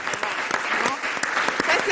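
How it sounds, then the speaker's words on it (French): Studio audience applause for a Cameroonian TV show, steady dense clapping filling the whole moment, with a voice briefly audible over it. "On applaudit d'abord pour cette émission."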